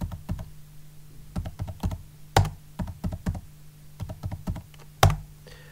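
Keystrokes on a computer keyboard entering a password on an Ubuntu server, crisp close clicks in short irregular bursts with two louder keypresses, no talking.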